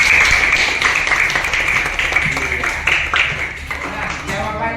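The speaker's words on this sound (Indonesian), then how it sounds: "Ayo tepuk tangan." A classroom group of students claps in applause during an Islamic religious lesson, loud dense patter filling the room with some voices mixed in.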